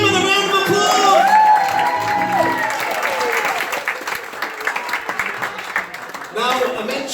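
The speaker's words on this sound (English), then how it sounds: "Give Simon a round of applause." A comedy club crowd breaks into loud applause with cheers and whoops, starting strong and dense, then thinning into scattered claps as a voice talks over it.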